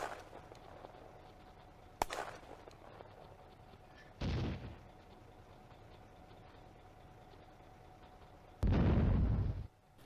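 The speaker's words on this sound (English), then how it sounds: "A mortar duel south of the Crossroads." Mortar fire and shell explosions in the World War II Eastern Front game Firefight Ost Front, near Zuyevka crossroads: a sharp crack, then two heavy, rumbling blasts a few seconds apart over low continuous background noise.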